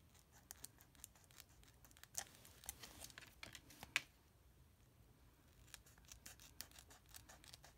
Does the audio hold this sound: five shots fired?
no